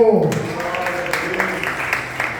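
A church congregation applauds during a spiritual liberation seminar, with steady crowd clapping filling the room as a voice speaks over it.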